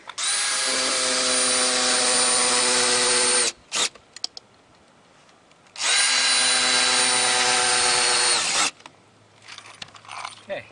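A power drill drives screws loudly in two sustained bursts of about three seconds each, fixing metal dogs on a redwood log for milling, separated by clicks and small metallic handling noises, close up.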